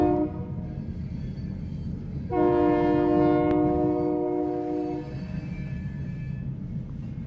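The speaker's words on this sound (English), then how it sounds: "This is gonna be a long train, guys." Two TP&W SD40-2 diesel locomotives hauling a long freight train sound a sustained horn blast of about three seconds over the steady rumble of the passing train.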